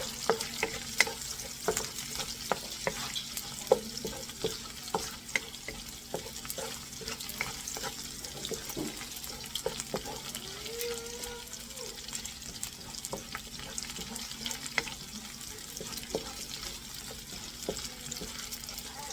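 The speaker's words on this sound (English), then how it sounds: "So we'll start with the garlic. We're gonna be using the same oil that the meat produced earlier." Garlic fries in rendered pork fat in a pan, giving a steady close sizzle with crackling pops and occasional stirring throughout, with no talking.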